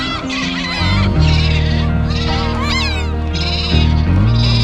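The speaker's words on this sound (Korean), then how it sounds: "갈매기들이 난리가 났네." Seagulls squawking over the Soraepogu seaside seafood market, loud repeated cries and yelps close by, layered over a constant low rumble of machinery and crowd.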